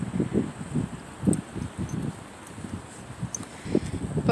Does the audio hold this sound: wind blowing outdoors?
yes